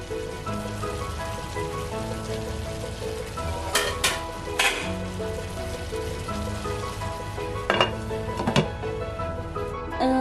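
Chicken thoran cooking in a pan, a steady close sizzle and crackle throughout, broken by a few sharp metallic clatters of utensil against pan.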